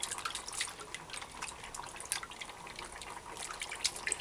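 Salted codfish being rinsed by hand in a bowl of water, giving soft, steady splashing and dripping close up with small trickles, no talking.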